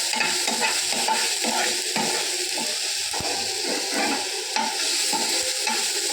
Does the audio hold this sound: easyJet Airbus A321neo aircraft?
no